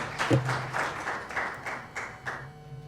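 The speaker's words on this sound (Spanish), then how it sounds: "El aplauso para él." An audience applauds a speaker at a university talk, a steady patter of moderate clapping that comes through rhythmic and slightly distant for about three seconds, with no speech.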